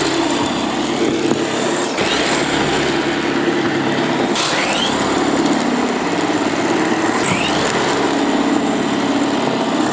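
Ryobi snow thrower attachment on a power head clearing heavy snow, a steady high-pitched motor drone with swells and brief surges as it bites into snow, close and continuous.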